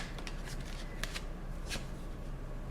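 Tarot cards shuffled in a short burst, a few soft riffling flicks close by over a steady background hiss, with no voices.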